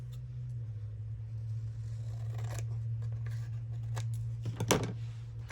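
Scissors trim a paper piece for a journal page in a few quick, close snips over a steady low background hum.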